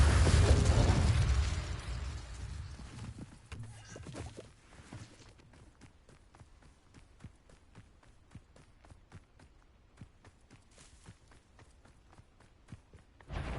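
A Confringo spell explodes in Hogwarts Legacy with a loud, rumbling blast at the start, then dies away into quiet footsteps and scattered clicks, with another burst at the very end.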